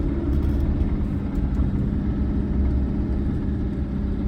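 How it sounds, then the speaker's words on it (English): Heavy road traffic heard from inside a moving Rover car, a steady low engine and road rumble throughout, continuous and muffled, with no voices. "Gosh, terrible traffic."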